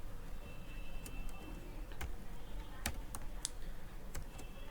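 Keys clicking on a computer keyboard while C code is entered, a quiet, irregular run of sharp taps with short gaps, heard close over a steady low background hiss, no speech.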